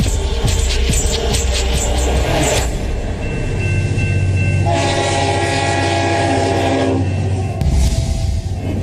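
A solar-powered Indian train running on its tracks, loud and close, with a rolling rail rumble and several long, sustained horn blasts.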